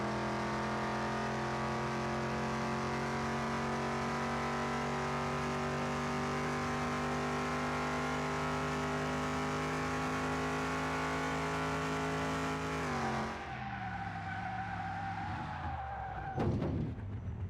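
Car drifting in the racing-track mode of Car Mechanic Simulator 2021, a long, loud, sustained tire squeal with a steady engine drone that holds for about thirteen seconds, then shifts and wavers before a brief clunk and a fade.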